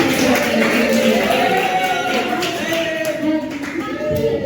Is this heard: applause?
yes